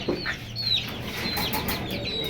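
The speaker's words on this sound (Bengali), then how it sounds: "ফেন্সি ফেন্সি মুরগি উঠেছে নতুন" Fancy chickens such as Polish cap birds clucking in a cage, several short nearby clucks and chirps over a low background murmur.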